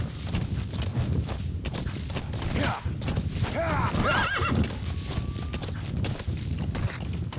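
A horse in the Metal Gear Solid V video game whinnies loudly in a rising and falling call amid a steady clip-clop of hooves, with a person talking quietly underneath.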